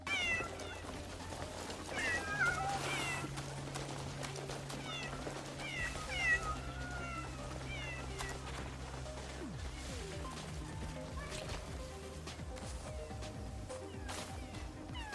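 Several cats meow in a cozy game-world cat settlement, their short rising calls scattered close and far over a steady musical bed, with a few clattering knocks mixed in.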